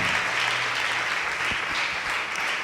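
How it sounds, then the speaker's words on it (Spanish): A church congregation applauds during a worship service, a sustained, dense wash of clapping that holds steady throughout, with a few low thumps near the middle. "¿Cuántos le dan un aplauso al Señor?"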